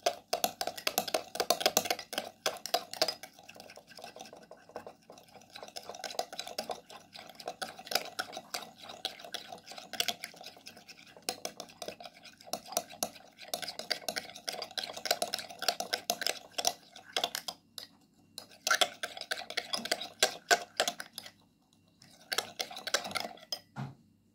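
A spoon stirs a mixture of Nescafe instant coffee and another ingredient, making continuous quiet clinking and scraping against the bowl or cup, with steady rhythmic taps throughout and no one speaking.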